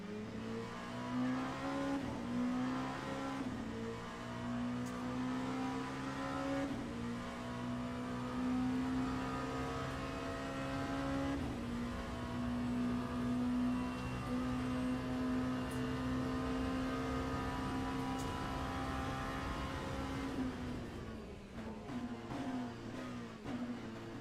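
Race car engines in the Le Mans Ultimate sim game, a steady droning whine that rises and shifts with gear changes, with other cars' engines mixed in, continuous and fairly loud throughout.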